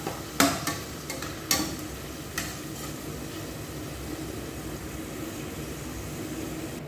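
Chicken sautéing in a pan with oregano and a pinch of salt, a soft steady sizzle broken by a few sharp clacks of a utensil scraping and stirring near the start.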